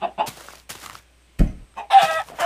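Blocky Minecraft chicken clucking in short bursts, several clucks before a brief silence, then a sharp low thump and more clucking near and fairly loud, with no talk over it.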